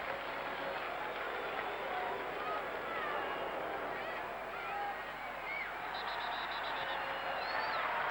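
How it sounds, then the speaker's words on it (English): A dense, steady roar from a large crowd at a Philadelphia soccer stadium after a goal in the America versus England match, holding at an even level throughout with no clear bursts or peaks. "that's cheered up the crowd in Philadelphia"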